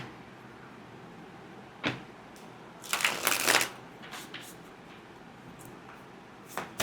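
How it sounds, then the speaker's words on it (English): Tarot cards being shuffled by hand, soft papery riffles and taps with a denser burst of shuffling in the middle, fairly close and quiet, with no talking. "Shuffling them so that we get the energies moving."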